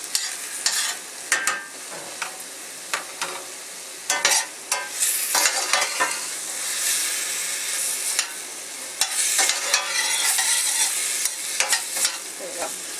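Tomato paste gets stirred into stewed beef and chorizo frying in a pan, with a constant sizzle and repeated scraping spoon strokes close by.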